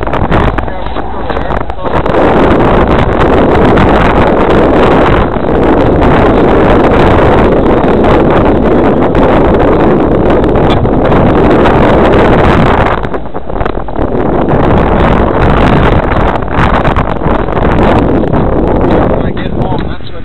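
Gusty outdoor wind pounds directly on a microphone, a loud, near-constant roaring buffet that eases briefly partway through before surging back.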